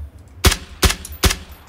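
Three sharp gunshots ring out at an even pace, loud and close, in the video game PUBG: Battlegrounds, with a faint rumble of background noise between them.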